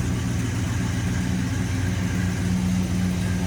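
A 1965 Plymouth Barracuda with a 273 V8 running close by, a steady loud low rumbling idle with no revs or talk.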